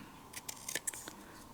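Scissors snip through paper card by hand in a few quick, faint, close cuts with brief pauses between them, no talking.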